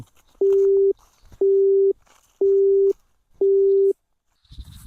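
Four evenly spaced busy-signal beeps from a telephone after a call is hung up, each about half a second long, loud and clear with short silences between them.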